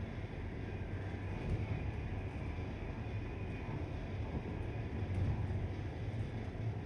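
Train running in Train Life: A Railway Simulator, a steady low rumble with rail noise that holds evenly throughout, with no talk over it.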